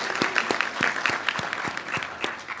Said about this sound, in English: please give yourselves a round of applause just for getting here